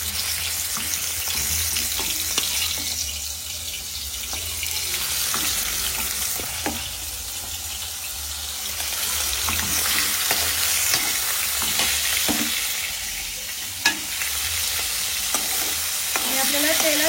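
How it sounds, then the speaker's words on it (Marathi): Marinated prawns fry in hot oil with a loud, continuous sizzling hiss that swells and eases, broken by occasional sharp clicks and stirring sounds. "आता ही तेलात आपण कोळंबी सोडणार आहे मॅरिनेट केलेली."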